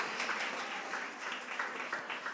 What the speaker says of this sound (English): See, y'all know that and you're clapping